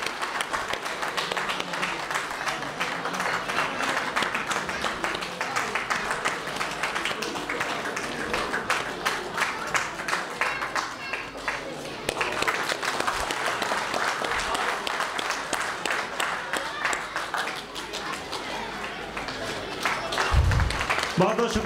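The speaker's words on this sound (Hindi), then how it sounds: "ताली बजती रहे भाई, ताली बजती रहे प्लीज" Prolonged, dense applause fills a hall at a Bihar and Jharkhand Diwas celebration and continues at a steady level for about twenty seconds, with a brief dip midway and crowd murmur underneath.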